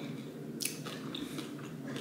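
Someone eats crispy biscuits with a crunchy centre, giving close, faint bites and chewing crunches over a low background hum, with no talk.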